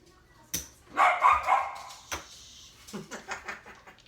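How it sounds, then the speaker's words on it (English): A dog barks several times at close range in a casino-style home setting, with short sharp yips clustered early and smaller bursts later, mixed with low background noise and faint voices. "And Wiley's barking"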